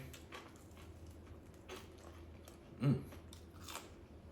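A crisp crunch as a deep-fried baby back rib is bitten, close up, followed by softer chewing against a low steady background hum.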